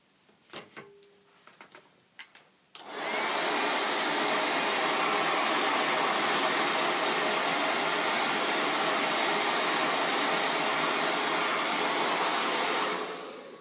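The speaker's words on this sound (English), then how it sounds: "And blow dry." Hair dryer blowing on a gray and black pixie cut wig unit, a steady loud whoosh that starts abruptly after a few soft handling sounds and runs continuously before cutting off at the end.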